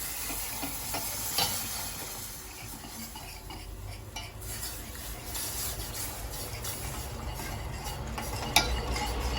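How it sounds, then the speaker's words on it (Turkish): A wire whisk stirs milk gradually into béchamel sauce in a pan, giving a steady scraping churn with a soft sizzle and a few sharp metallic clinks against the pot. "şimdi tel çırpıcı yardımıyla sütümüzü yavaş yavaş ekliyoruz"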